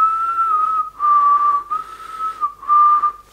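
Finger whistling by a novice: three sustained, steady high tones of similar pitch separated by short breaths, close and loud, with no talking.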